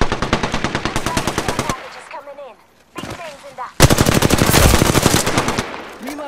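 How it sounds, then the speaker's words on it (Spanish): Rapid automatic gunfire in Apex Legends rattles in loud sustained bursts, broken by a short pause with faint electronic chirps before the shooting resumes. "ya se escuchan los tiros allá abajo"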